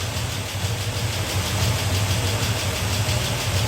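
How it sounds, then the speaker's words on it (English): A Chrysler Valiant AP6 engine runs just after starting, a steady, close low-pitched rumble with slight pulsing and no voices over it. "Love the way it starts instantly."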